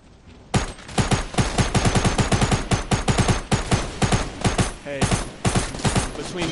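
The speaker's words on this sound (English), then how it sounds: "they're shooting at me" Rapid bursts of gunfire in Fortnite crack out in dense, irregular volleys for several seconds, loud and close, with a short pause before more shots.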